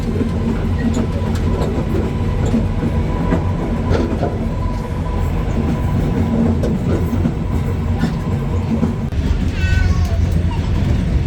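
A passenger train rumbles steadily along the rails near Kep railway station, Cambodia, with a constant low roar and faint clattering, plus a brief squeal near the end.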